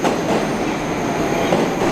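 Moscow metro train arriving at a station, a loud, steady roar of wheels and rumbling cars that fills the whole moment without a break.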